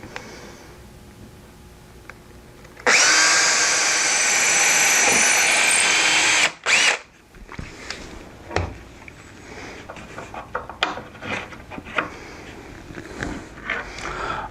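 A power drill bores holes to take 3-inch number 9 copper rivet nails in barrel stave wood, whirring loud and steady for about four seconds before stopping abruptly, then scattered clicks and handling knocks follow.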